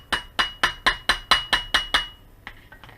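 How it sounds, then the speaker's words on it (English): Nine sharp, evenly spaced hammer taps drive a pin into a Tanfoglio pistol frame on a table, close and loud, followed by a couple of lighter, softer taps. "grab your hammer and tap that pin in"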